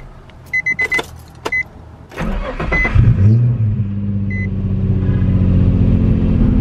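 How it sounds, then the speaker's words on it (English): A few electronic chimes and clicks, then a Nissan 350Z engine with a misfire cold-starts, cranking and catching, revving briefly before settling into a loud, steady idle. "All right, cold start. Hopefully it doesn't sound too bad."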